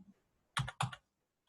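Two quick bursts of keystrokes on a computer keyboard while entering a number into a spreadsheet cell, close and fairly soft, separated by a short pause, with quiet moments before and after.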